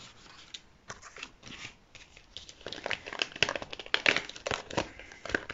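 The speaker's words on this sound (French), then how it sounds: "Alors, je vais venir d'abord découper un cadre." Paper cut into a frame for a stamping craft project: close, quiet crinkling and snipping, with rustling paper handling that grows busier and louder toward the end.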